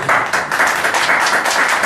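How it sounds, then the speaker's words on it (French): Dense, steady clapping from an audience at a press conference about building a school on Kassa island, loud and continuous throughout with no voices. "On va de plus applaudir encore davantage pour eux."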